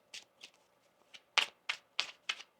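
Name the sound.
shuffling a deck of tarot cards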